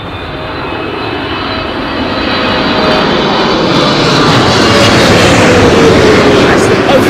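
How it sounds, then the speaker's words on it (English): A Boeing 777 approaching to land at Heathrow Airport during a storm roars overhead, its jet engine noise loud, broad and steadily building as it passes close by, with wind rushing throughout. "Big old 777. Look at those engines,"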